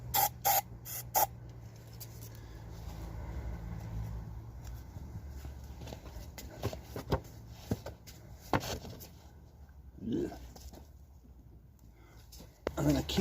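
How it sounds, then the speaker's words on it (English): Brake cleaner is sprayed into a part of a Tomos AT50 moped in a few short, sharp aerosol bursts at the start, followed by quieter handling and scraping noises. "I'm going to squirt some brake cleaner in here."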